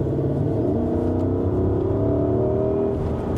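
Porsche Cayenne Turbo fitted with GT parts lapping Sepang circuit, its engine a steady, loud droning hum with rising and shifting tones throughout, no voices.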